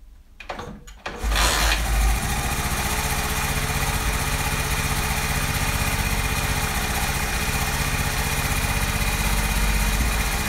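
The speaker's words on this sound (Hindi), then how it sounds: "मैं बाइक को स्टार्ट करता हूँ" A motorcycle engine cranks with a few brief stutters, catches, and then settles into a steady, close idle.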